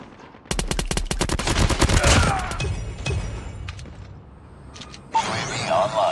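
Rapid automatic gunfire rattles loudly in a Call of Duty Mobile match, a dense burst of close shots followed by quieter game noise and another flurry of effects near the end.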